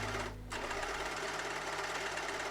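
An overlocker stitches the edges of hand-spun fabric with a loud, fast, steady mechanical whir. It cuts out briefly near the start, then runs on continuously up close.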